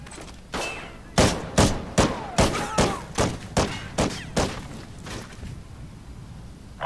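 Gunfire in a 4v4 Search and Destroy video game match on Octane: a rapid burst of about a dozen sharp, evenly spaced shots, loud and close, with a quiet room tone before and after.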